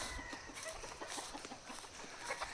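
A wild junglefowl (labuyo) clucks in overgrown brush, giving short repeated clucks over a background of rustling and ambient noise, fairly close and at moderate volume.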